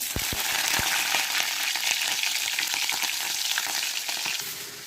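Garlic and green chillies frying in hot oil with popped mustard seeds, a steady, close, loud sizzle with scattered sharp crackles throughout, no voices.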